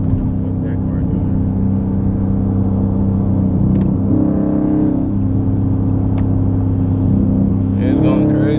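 A Hemi-powered car's engine drones and rumbles steadily inside the cabin, with a couple of swells in revs as it accelerates, a loud continuous hum throughout.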